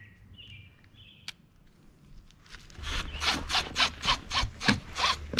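A threaded part on a rammed earth wall sample is unscrewed by hand. Close, rhythmic scraping twists repeat about ten times in quick succession after a few quieter clicks and rustles.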